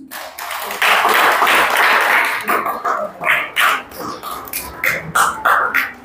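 At a ceremony opening a Buddhist Dhamma class, the crowd claps loudly in a close, dense burst, then breaks into choppier, uneven rounds of clapping toward the end.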